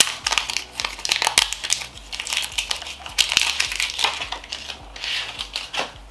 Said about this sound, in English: We'll unwrap the plastic from that.